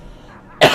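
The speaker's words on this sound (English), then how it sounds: "Man, I still got this cough" After a near-silent moment, a man gives a single sharp cough from a persistent cough, loud and close, cut off at the end.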